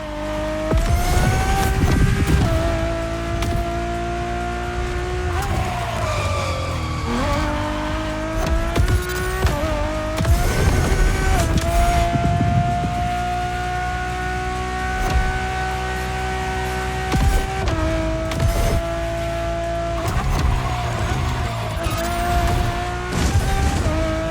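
A Ferrari supercar, a road-legal Formula One-inspired machine, drives in the racing game The Crew Motorfest. Its loud engine drone rises and falls through repeated gear shifts, with occasional tire squeal.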